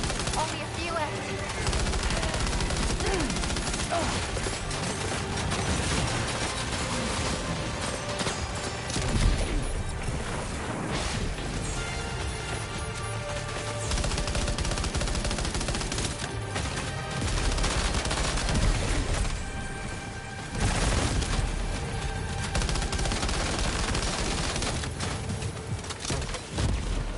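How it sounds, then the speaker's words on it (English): Sustained, dense gunfire rages through a battle in Death Stranding 2, with rapid automatic bursts and crashing impacts layered continuously over a loud, busy backdrop. "Keep firing. Only a few left."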